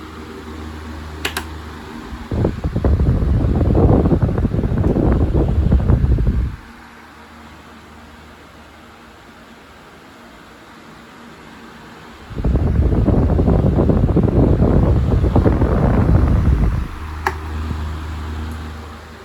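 A Lasko fan with a replacement blade runs on high speed as a steady, even whoosh of moving air, with two louder broadband bursts of several seconds each rising over the quieter hum.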